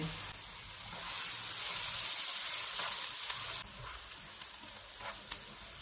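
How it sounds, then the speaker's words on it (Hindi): Onion frying in hot oil over medium-low heat for chicken tikka dum pulao, a soft steady hiss and crackle close by, with one brief click near the end. "ऑयल गर्म हो गया है, इसमें एक प्याज डालेंगे। चूल्हे को मीडियम लो रखेंगे, इसको 2 से 3 मिनट तक भूनेंगे।"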